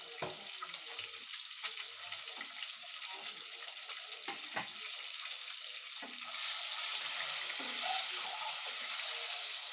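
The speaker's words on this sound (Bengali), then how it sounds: "ডিমটা ভালো করে ভেজে নিব লবণ দিয়ে" Eggs frying in oil with salt for egg korma, a steady sizzle with scraping stirs that grows louder and hissier partway through, heard alone with no talking.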